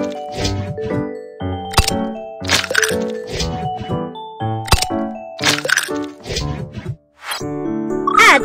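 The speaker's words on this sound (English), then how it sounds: "Crack 3 eggs." Eggs cracking in a Baby Panda sushi kitchen cartoon game while making taiyaki batter: a series of sharp cartoon crack effects among bright chiming jingles and tinkly game music, close and fairly loud.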